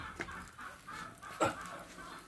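Roosters clucking and crowing faintly nearby, a few short calls over low background noise.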